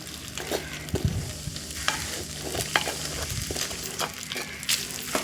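Cooked rice is stirred into an orange juice tempering in a pan, the spoon scraping steadily against the pan over a light sizzle, close and continuous with no speech.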